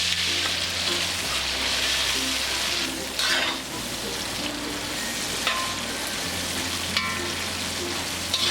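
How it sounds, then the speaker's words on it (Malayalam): Half-cooked beef frying in hot vegetable oil in a wok for a beef pickle, a steady loud sizzle and crackle running throughout with brief stirring scrapes and spatters. "എണ്ണ ചൂടാകുമ്പോഴേക്ക് പകുതി വേവിച്ച് വെച്ചിരിക്കുന്ന ബീഫ് ഇതിലിട്ട് ഫ്രൈ ചെയ്തെടുക്കാം."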